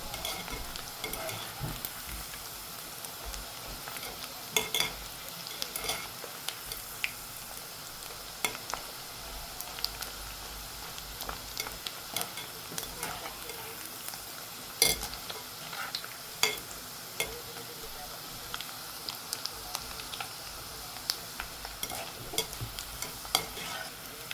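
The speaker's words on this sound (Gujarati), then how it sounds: "એકદમ કડક થાય ને ત્યાં સુધી આપણે તે બુમલાને તળાવવા દેવાના છે." Dried Bombay duck (bumla) frying in oil until crisp while being stirred, a steady close sizzle with scattered crackles and light spatula clinks running the whole time, with no talking.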